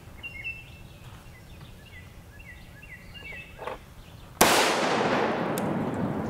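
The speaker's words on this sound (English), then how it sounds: "now we'll take the same shot of AP3 against our RMA" A single loud rifle shot of an AP3 armor-piercing round hitting an RMA 1155 body armor plate outdoors, a sharp crack with a long rolling echo after quiet seconds of birdsong.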